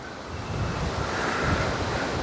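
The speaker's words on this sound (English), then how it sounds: "It's really windy out here." Strong outdoor wind buffeting the microphone, a continuous broadband roar and rumble with no voices.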